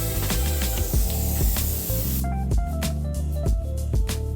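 Spray painting a car by a first-timer in a garage: a steady broadband hissing spray fills the first two seconds, then gives way to intermittent hissy bursts mixed with background music.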